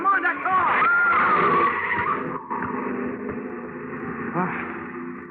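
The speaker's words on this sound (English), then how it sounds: "Look out, Governor, mind that car!" A car skids and its tyres squeal as it swerves close past a pedestrian on a street, loud and sustained over a couple of seconds, with voices talking over and after the near miss.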